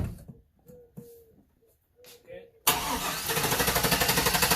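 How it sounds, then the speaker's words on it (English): The 1999 Chevy Silverado 5.3L cranks for a clear-flood start with the throttle held wide open. Loud, rapid, even starter pulses follow a few seconds of talk and small clicks, and continue steadily to the end. "We're going to do a clear flood crank, smash it to the floor, crank it over tight to stop."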